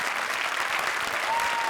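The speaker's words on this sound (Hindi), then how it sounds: "जोरदार तालियां" A studio audience at a comedy show breaks into loud, sustained applause, a thick wash of clapping that holds steady throughout.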